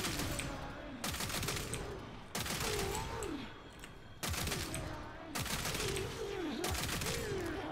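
AKBolto Prime pistols fire in rapid bursts at heavy gunners in Warframe, repeated clusters of quick shots separated by brief pauses, while a voice talks underneath.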